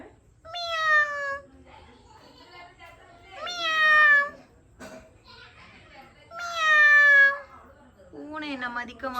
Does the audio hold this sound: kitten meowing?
yes